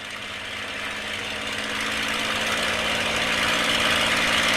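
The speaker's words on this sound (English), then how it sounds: "I'm going to add power, and we're going to go to 2300 RPM." A TF-51 Mustang aircraft's piston engine runs up toward 2300 RPM, a loud, steady droning roar that swells gradually and evenly, with no voices over it.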